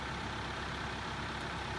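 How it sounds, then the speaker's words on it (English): A Massey Ferguson 2860M tractor engine idles steadily at a low, even rumble, close and continuous with no talk over it. "right now I've got the Massey Ferguson idling"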